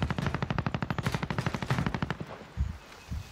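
Rapid automatic gunfire from a nearby fight in a video game, a fast even burst of sharp shots lasting over two seconds, followed by a couple of heavier single thuds.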